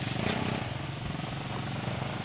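A scooter motorcycle's engine drones steadily while riding over a rough, bumpy road, with a constant throbbing buzz and wind noise up close.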